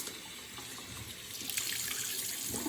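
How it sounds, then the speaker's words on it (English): Tap water running steadily into a sink, a soft continuous splashing hiss that grows a little louder partway through, heard close with no voices. "you'll hear my water going on"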